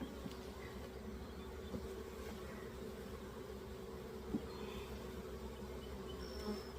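Honey bees buzzing close around a beekeeper's head during a spring hive check, a steady dense drone of many insects with wingbeats swelling nearer at moments, continuous and alone.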